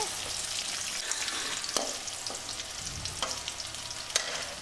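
Small onions sauté in hot oil for a village-style fish curry, a steady close sizzle broken by several sharp scrapes and clicks of a spatula stirring the pan, with no voices.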